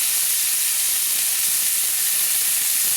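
Cauliflower, carrot and beans frying in a pan for a vegetable dal, giving a steady, close, unbroken hiss and sizzle that runs the whole time with no talking.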